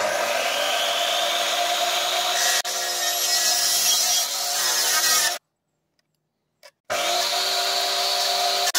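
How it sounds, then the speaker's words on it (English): A drop saw slices through the ends of a carbon fibre rudder stock, a loud, steady whining cut lasting about five seconds, then a brief silence before the saw roars back in for a second pass. "It's really tempting to put it in my drop saw and cut these ends off."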